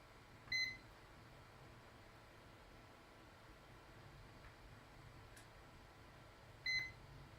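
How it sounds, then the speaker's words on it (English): Two faint, short electronic beeps from a multimeter, several seconds apart, over a quiet background hiss. "It beeps only once."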